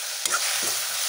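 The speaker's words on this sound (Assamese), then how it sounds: "নিমখ দি অলপ লৰাই দিছোঁ।" Salted food sizzles in a frying pan while a utensil stirs it, giving two quick scraping strokes over a constant close hiss.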